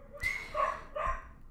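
Dogs bark close by, two or three sharp barks in quick succession, loud and alone with no talking.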